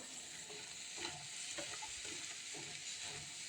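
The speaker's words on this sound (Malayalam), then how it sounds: "വെണ്ടയ്ക്ക മെഴുക്ക് വരട്ടിക്കുള്ളത് ഞാൻ അരിഞ്ഞടുപ്പയിലോട്ട് വെച്ചിട്ടുണ്ട്" Chopped okra stir-fries in a pan on the stove with a soft, steady sizzle and faint scraping as it is turned; quiet and close, with no voices.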